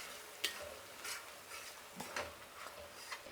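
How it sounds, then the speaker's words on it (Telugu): Masala paste being stirred and fried in a pan for a stuffed brinjal curry, with soft scraping strokes of a spoon and a faint sizzle repeating irregularly, fairly quiet and close. "ఇది ఎక్కడ అడుగు అంటకుండా కలుపుకోవాలండి."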